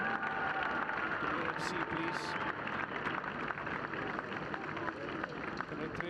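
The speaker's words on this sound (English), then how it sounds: "Let's give her a big round of applause." Applause from a tennis crowd at a women's match in Doha rolls steadily for Tracy Austin. The sound is fairly soft and distant, with a few louder bursts.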